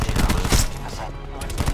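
Gunfire in a first-person shooter video game, several rapid punchy shots in quick succession, close and loud, with a voice talking over them.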